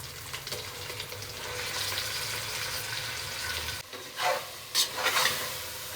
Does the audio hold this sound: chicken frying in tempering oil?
yes